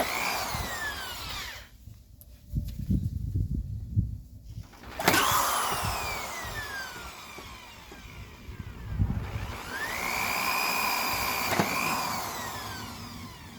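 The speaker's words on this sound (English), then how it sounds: "basically drilled, as you see, pretty much all the way around." A power drill bores holes all the way around a container being prepared for planting peach trees, giving close, repeated whining bursts that rise and fall in pitch, with handling clatter between them.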